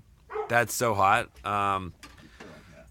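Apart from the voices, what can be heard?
dog barking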